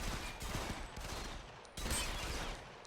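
Pistol shots ring out in the online shooter Ghost Recon Phantoms, quiet, sharp bursts within a low, steady game soundscape.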